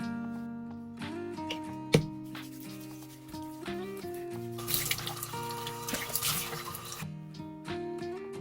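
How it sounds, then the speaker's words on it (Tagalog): Tap water runs steadily into a bathroom sink during a bedtime face wash, with gentle splashing and rubbing, one sharp knock near the start and a louder burst of flow midway, no talking. "I'm done washing up my face"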